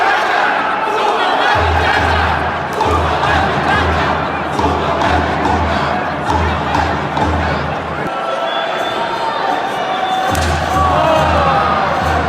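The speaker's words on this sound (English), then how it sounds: "the raving lunacy of the lucha crowd is a spectacle almost more impressive than the" A raucous lucha libre wrestling crowd in Guadalajara roars and cheers continuously, with shouts rising and falling and occasional thuds, broken by a brief lull.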